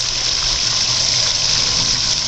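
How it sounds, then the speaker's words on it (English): A garden waterfall pours in a constant, loud rush of splashing water, a steady broadband wash with no pauses, close to the listener and with no voices. "Here you can see the waterfall."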